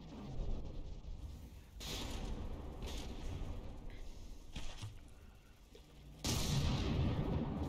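Naval artillery shells fire in volleys during a From The Depths frigate battle, with deep booming bursts and rumbling impacts, including a heavy blast near the end, over a continuous low wash of battle noise.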